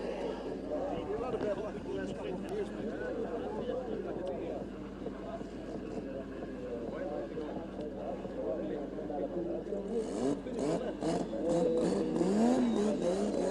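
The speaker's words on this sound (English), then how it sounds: "That's what we call drifting here." A drift car's engine revs and roars at a distance during a desert drifting competition in Oman, rising and falling continuously beneath excited commentary.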